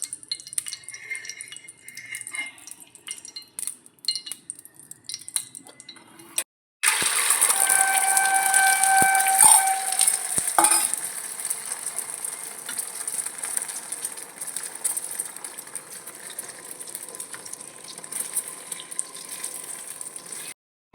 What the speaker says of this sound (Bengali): এবার তেল দিয়ে এর মধ্যে ডিম দিয়ে ভেজে নেব